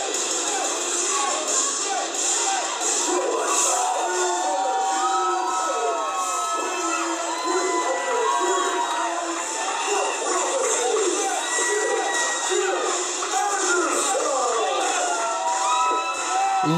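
Wrestling crowd at a Retribution event cheering and shouting loudly and steadily, with many excited voices and children's yells blending into a dense roar.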